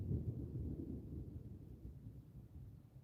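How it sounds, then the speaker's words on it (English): Distant thunder from active storms over north-west England, a low faint rumble rolling continuously in the background without sharp cracks, with no talking. "Can you hear all that distant thunder?"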